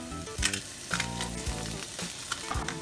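Garlic and rosemary sizzling in oil in a pan over lowered heat, a close, crackling fry punctuated by irregular scraping and clinking stirs with a utensil, moderately loud, without any voices.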